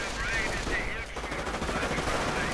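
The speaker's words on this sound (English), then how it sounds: "And we see a pineapple grenade going off" Grenade blasts and rapid gunfire from a WWII strategy video game, a dense continuous clatter of shots and bursts filling the whole stretch at steady loudness, with no one talking.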